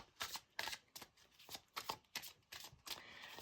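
Oracle cards are shuffled for a reading, giving a quiet, close series of quick riffling bursts in an uneven rhythm, heard alone without talking.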